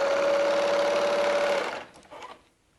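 A sewing machine stitches quilt binding at a steady, close, loud whir with a constant hum for about two seconds, running off the end of the fabric at a corner before slowing and stopping amid a few soft handling sounds.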